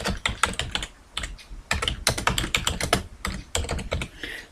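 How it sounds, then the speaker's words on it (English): Rapid keystrokes on a computer keyboard while a footnote is typed in a word processor, a close, busy run of clicks in uneven bursts with brief pauses between words. "I can type my footnote"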